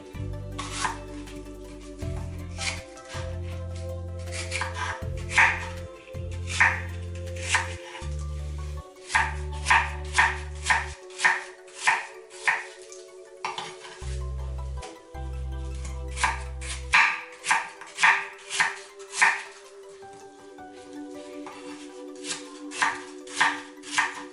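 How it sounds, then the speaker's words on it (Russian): Rhythmic knife chops through apples on a cutting board, crisp and close, repeating steadily with short pauses over a low background hum. "Яблоки нарезаю на кусочки."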